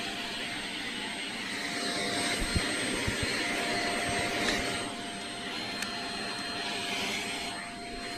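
Vacuum pulling dandruff from a miniature horse's coat, a steady whining motor drone with airy suction hiss, close and continuous, with a few soft bumps as the nozzle moves over the hair.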